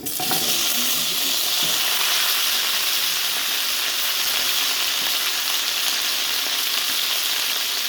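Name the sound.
chicken frying in pan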